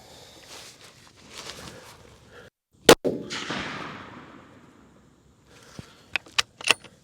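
A Browning X-Bolt 6.8 Western rifle fires a single loud, sharp shot with a rolling tail, set amid quiet outdoor rustling and followed by a few crisp metallic clicks.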